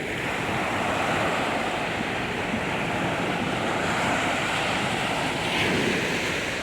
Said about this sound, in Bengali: কত বড় বড় ঢেউ দেখো।